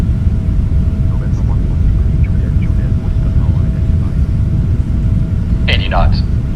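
The jet engines of a Boeing 777 at takeoff thrust on the runway give a steady, loud, broadband roar that continues throughout, with a few brief chirps near the end.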